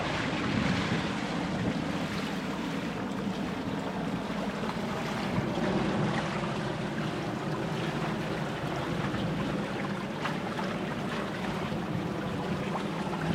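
A small Minicat Explorer 520 sailing catamaran under sail off the Croatian coast near Šolta, bound for Hvar: steady wind rush and broad water wash against the hulls, continuous and close, with no voices.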